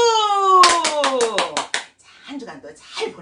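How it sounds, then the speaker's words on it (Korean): An audience at a senior recreation class claps in a quick burst of about seven rhythmic handclaps after a musical tone, followed by voices. "박수!"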